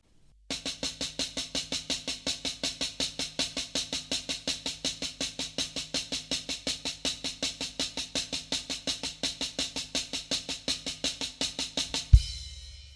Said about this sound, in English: So now the double stroke roll sounds something like this.